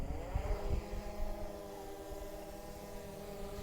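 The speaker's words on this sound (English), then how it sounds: "the aircraft is idling right now" Steady motorized whirring hum of drone motors at idle, even and continuous, with no voices over it.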